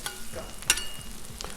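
Garlic stir-fry noodles sizzle steadily on a Blackstone griddle while a spatula scrapes and stirs them in quick, close strokes.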